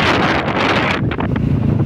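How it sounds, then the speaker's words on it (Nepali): Strong wind buffets a phone microphone outdoors on a trip to a hillside village, a loud, continuous rumbling roar that swells and gusts throughout. "हावा कस्तो हावाले गर्दाखेरि मोबाइल उडाउनु जस्तो गरेको"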